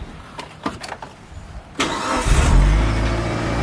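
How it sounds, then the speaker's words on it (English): A neglected Mitsubishi Evo 8 starts for the first time in eight years: a few short cranking bursts, then the engine catches with a sharp roar and settles into a loud, rough, steady idle, with no talking. "I really want to start this car one time."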